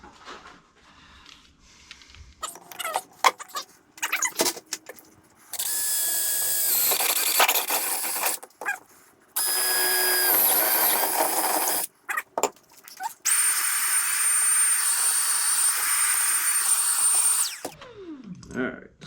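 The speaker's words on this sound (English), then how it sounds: "Alright, so all the holes drilled." A power drill bores mounting holes for a Garmin Livescope mount, running in several long, loud whining bursts of a few seconds each, separated by short gaps and clattering handling noises.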